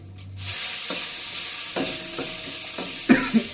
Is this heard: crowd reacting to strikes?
no